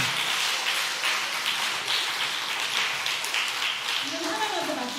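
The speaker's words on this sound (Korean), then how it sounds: "박수 좀 치세요." A church congregation clapping together during a Sunday afternoon service, a dense, steady patter of many hands close by, with a voice speaking over it.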